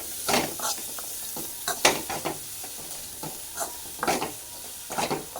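Steady sizzling and frying in a pan, with intermittent scraping and stirring strokes, while sautéing for a Tamil fish curry (meen kuzhambu).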